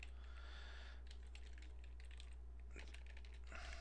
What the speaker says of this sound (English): and I type in here HTTP